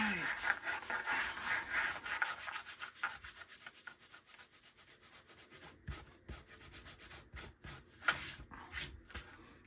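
Dried glue being rubbed off paper in a junk journal, a close, steady run of dry scrubbing strokes by hand that eases off midway, then returns in shorter, sharper bursts.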